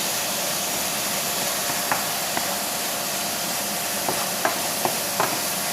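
Noodles sizzle and fry in two woks on high heat, with a constant loud hiss and a few light clicks and taps of utensils on top.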